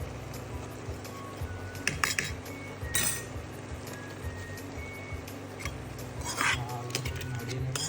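A utensil stirring noodle soup in a pot, with scattered clinks and scraping taps against the metal, fairly quiet and close, over a faint background hum.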